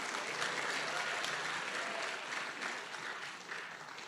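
A church congregation at a Tagalog preaching service applauds in a dense, continuous wash of many hands. It stays at an even, moderate level throughout without fading, with faint crowd murmur blended in.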